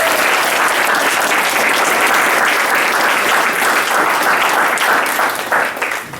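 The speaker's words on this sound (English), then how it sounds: "can we actually give the whole panel one more round of applause, please?" An audience at a community panel discussion gives the panel another round of applause, loud dense clapping that holds steady for several seconds before tapering off near the end.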